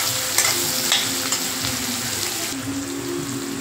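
Onion and drumstick sizzle and fry steadily in a pan, with occasional stirring scrapes and light clinks, continuous and fairly loud with no talking.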